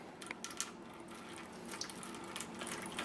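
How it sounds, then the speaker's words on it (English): Water poured over seed-starting pucks to soak them, a soft continuous trickle and splash close by with a few small knocks, no talking. "so we're getting the pucks wet"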